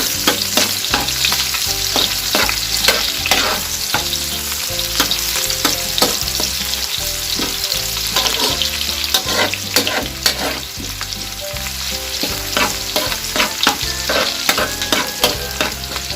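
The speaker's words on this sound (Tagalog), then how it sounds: "Hintayin lang natin mag-translucent yung ating sibuyas." Onions sautéing in a pan while cooking Filipino ginisang labanos, a continuous sizzle running throughout with regular rhythmic clinks of a utensil stirring, close and loud with no talk.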